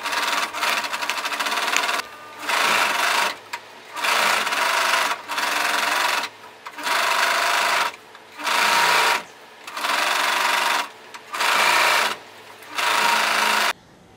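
A sewing machine stitching the side seam of a skirt runs in repeated bursts of about a second each, separated by short pauses while the fabric is shifted. It is steady and close, with no talking.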